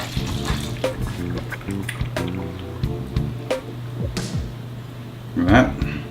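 A marinade of citrus juice, vinegar and red wine is poured over pork shoulder and onions in a crockpot for cochinita pibil, giving soft wet splashes and drips under ongoing talk.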